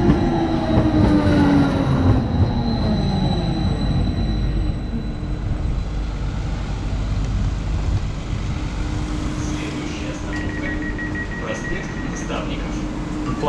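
Ride aboard an empty three-section tram about 37 metres long, one of the longest in the world, a steady loud rumble of wheels and motors with faint rail squeals and clicks throughout.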